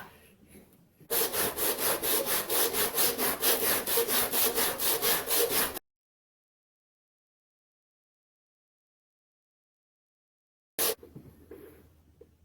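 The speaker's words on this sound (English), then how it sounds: "So now I've sanded all the way around the outside." Sandpaper rasps back and forth across the wooden hull of an RC gaff pilot cutter model in rapid, even strokes, close and loud for several seconds before falling silent, then a brief scrape resumes.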